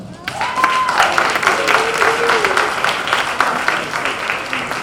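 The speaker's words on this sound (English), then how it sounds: "Give a hand of applause." Applause for award recipients at a 2020 Martin Luther King Jr. celebration ceremony, a steady wash of clapping from an audience lasting several seconds, with a faint voice or tone drifting beneath it.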